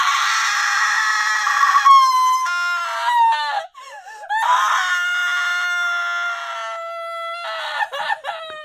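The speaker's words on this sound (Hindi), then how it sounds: "वो अचानक से रुक गई और जोर जोर से रोने लगी" A woman wails and screams loudly in a horror story sound effect, long high piercing shrieks and sobbing cries that rise and fall over several seconds, close and alone with no talking.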